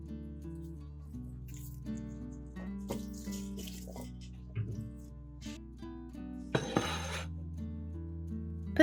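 Water is poured from a tap into a bowl of small, firm Vietnamese garlic cloves, a steady splashing stream with faint clinks of glass, close and fairly quiet with no talk.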